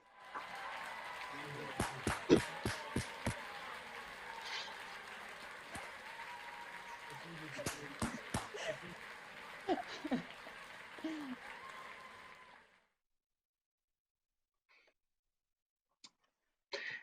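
Scattered applause from several people over a video call at a university graduation, thin and compressed as if through small speakers, with sharp claps standing out; it stops abruptly, leaving near silence.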